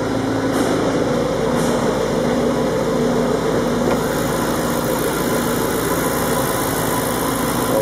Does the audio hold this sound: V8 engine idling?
yes